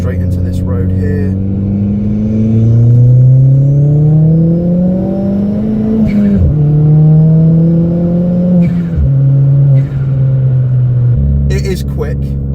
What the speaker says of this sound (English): Loud and proud car, picks up speed a lot.